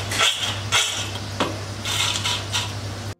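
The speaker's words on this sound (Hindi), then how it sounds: "आवाज से ही आपको पता चल गया होगा कि कितना करारा सिकाई है" Crispy homemade French fries tumble and rattle inside a metal vessel, giving several bursts of dry clattering over a steady low hum, close and fairly loud.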